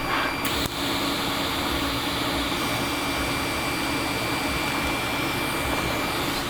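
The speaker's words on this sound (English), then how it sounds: "I'm just autogenously melting the metal." TIG welding arc fusing metal autogenously with no filler, a steady broadband hiss and hum running continuously and close, with a brief click near the start.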